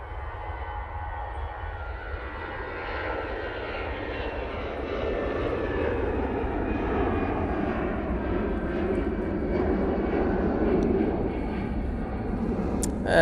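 An EasyJet airliner departs Manchester Airport, its engine roar building gradually from a moderate distance into a steady, broad rumble that holds through the rest of the pass, with no talk.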